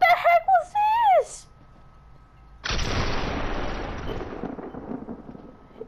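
Fortnite gunshot striking a wall: a sharp, loud blast bursts in and then rolls off into a long, rumbling decay. It follows a short stretch of voices and chirpy game sounds, then a quiet gap.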